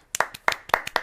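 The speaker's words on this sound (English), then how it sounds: "we should give a round of applause for challengers because all 5 games were decisive ones" A few people clapping at a chess tournament in a quick, uneven patter, close and fairly soft, with no voices.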